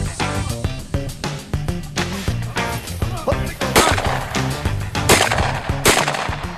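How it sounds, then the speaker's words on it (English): Several loud gunshots at irregular intervals, aimed at flying birds during a five-gauge shooting challenge, each a sharp crack with a short ringing tail, heard outdoors against a busy background. "There were several times when I fired at birds"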